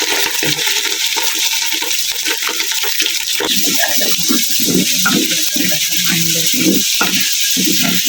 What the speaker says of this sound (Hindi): अब इसमें हम चिकन डालेंगे। बिस्मिल्लाहिर्रहमानिर्रहीम। इसे भी जरा सा हम गोल्डन करेंगे, ब्राउन करेंगे।